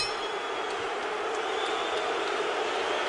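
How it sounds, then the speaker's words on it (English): Boisterous boxing crowd at the Mayweather vs Hatton fight, a steady roaring wall of arena noise with faint shouts and a few sharp peaks, distant and continuous throughout. "This crowd is boisterous."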